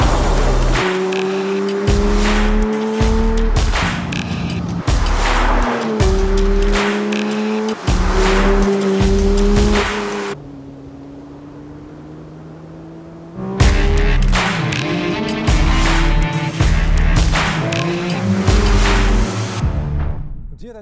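A Porsche 911 GT3 with Touring package driven hard on winding country roads, its engine repeatedly revving up through gears and cutting back, with a brief quieter lull in the middle before the loud revving resumes.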